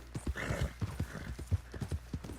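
Horse hooves clip-clopping in a steady trotting rhythm while riding down a path in the video game Red Dead Online, close and fairly quiet, with no talk.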